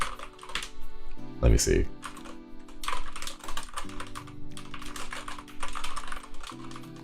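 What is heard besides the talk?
typing on a rubber dome computer keyboard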